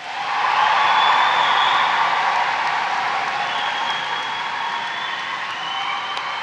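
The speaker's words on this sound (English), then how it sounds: "let's have a real Dundee cheer to close things off" A graduation audience at the University of Dundee lets out a big group cheer that swells quickly and holds as a loud, sustained roar of many voices before slowly easing off.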